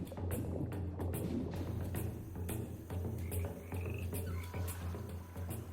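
Several frogs croak in repeated pulses over a steady low drone, with faint chirps mixed in; the calls come close together at a moderate level and no one speaks.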